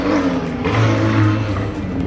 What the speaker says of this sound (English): your car is so loud